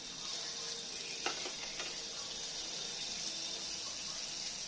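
Butter sizzles and crackles in a hot wok for garlic cheese mushrooms, a steady faint hiss throughout with a couple of brief clinks or stirs early on.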